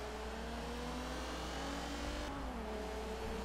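Car engine in the Forza racing video game: a steady, loud engine drone with a held, slowly shifting pitch, rising slightly and then settling, with no talk.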